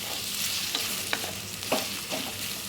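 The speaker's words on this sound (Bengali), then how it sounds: "এখন আমি পেঁয়াজটাকে একটু ভাজবো" Thinly sliced onion fries in a pan for a chicken dish, giving a steady soft sizzle broken by a few sharp scraping clicks as it is stirred, with no talking.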